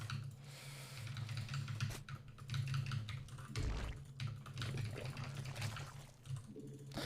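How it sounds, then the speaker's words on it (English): Fast, continuous typing on a loud computer keyboard during a StarCraft game stream, with dense clattering keystrokes close to the microphone throughout and no talking. "The keyboard's probably very loud, isn't it?"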